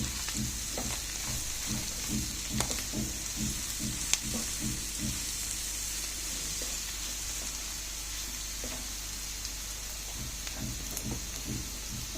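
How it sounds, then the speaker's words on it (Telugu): Fenugreek leaves fry in a pan with a steady, soft sizzle, while rhythmic scraping stir strokes repeat in bursts throughout. "దీన్ని బాగా వేగనివ్వాలి మెంతికూర వేకపోతే చేదు వస్తుంది"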